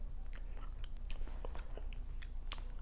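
Crisp, repeated crunchy bites and chewing of raw celery sticks, close and steady with sharp snapping transients throughout, no talking.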